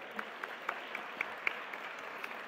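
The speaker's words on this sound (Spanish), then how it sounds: "Un aplauso para ellos, por favor" Applause rises from the audience at a national education forum. It stays fairly soft and steady, with a few distinct claps standing out over the continuous patter.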